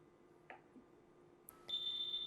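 Alarm tone from a Dräger Evita V800/V600 medical ventilator during a system check: faint blips, then a steady high-pitched electronic tone that starts and holds at moderate loudness over a quiet background.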